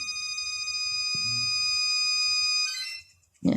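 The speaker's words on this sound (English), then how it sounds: "Yeah, setting the alarm" A house alarm being set sounds a steady, loud high-pitched electronic tone for nearly three seconds before stopping abruptly, with a brief low thud near the start and a bump at the end.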